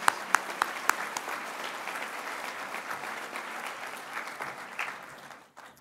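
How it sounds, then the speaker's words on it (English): Applause from a graduation ceremony audience: steady clapping from a crowd that carries on evenly for several seconds, with a few sharper claps near the start, then fades out at the end. "Please give them a round of applause."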